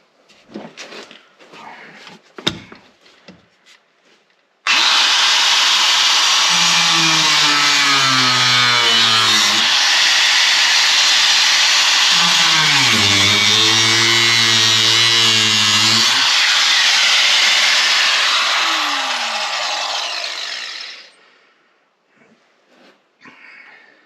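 A power saw cuts through the car body of a Subaru XT6, a loud, close, continuous metallic roar lasting about sixteen seconds as its pitch dips and rises under load before it winds down.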